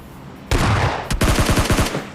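SCAR assault rifle fire in PUBG Mobile Lite: a loud single shot, then a rapid automatic burst of about eight close, punchy rounds.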